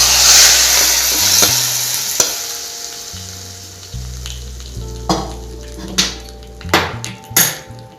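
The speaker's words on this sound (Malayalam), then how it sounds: "ഇത് ഈ കറിയിലേക്കൊന്ന് ഒഴിച്ചു കൊടുക്കാം." Hot tempering poured into a Kerala-style dal curry with drumsticks and mango, a loud sizzle that bursts and fades, followed by clinks of a metal pan and spoon stirring.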